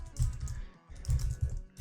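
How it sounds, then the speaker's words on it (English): Computer keyboard typing while writing Three.js code: bursts of quick key clatter, close and fairly soft, with a short pause in the middle before the tapping resumes. "I really need to improve my typing."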